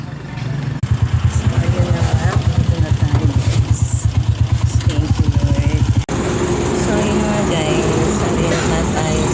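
Motorcycle-powered tricycle engine idling nearby with a fast, loud chugging pulse for several seconds, then cutting to a lower steady hum of traffic; people talk around it.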